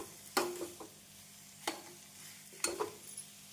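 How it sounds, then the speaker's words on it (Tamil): Potato masala for aloo paratha filling sautéing on a medium flame, with a few sharp spoon scrapes against the pan over a soft, quiet sizzle. "மசாலா சேர்த்து மீடியம் ஃப்ளேமில் 2 நிமிடம் வதக்கிய பின் அடுப்பை ஸ்விட்ச் ஆஃப் செய்து விடலாம்"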